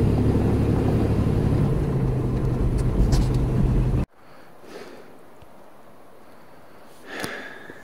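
A small 3-litre truck grinds up steep washboard hills with a loud, steady engine drone and rattling, which cuts off abruptly and leaves quiet wind and faint rustling.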